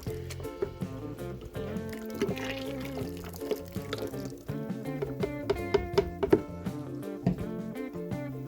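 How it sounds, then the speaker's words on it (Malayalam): Homemade dishwashing liquid is poured into a bottle, giving close, uneven glugs and drips with small splashy squelches, fairly quiet throughout. "ഇതുപോലെയുള്ളൊരു ബോട്ടിലിൽ ഒഴിച്ച് നമുക്ക് എടുത്ത് വെക്കാം"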